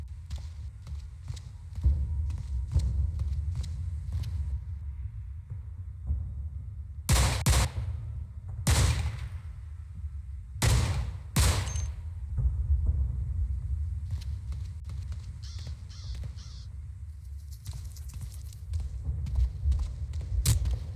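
Gunfire in the video game Cataclysm DDA, heard as a few loud, sharp cracks spread across a low, steady background rumble, with quieter ticking and tapping between the shots and no voices.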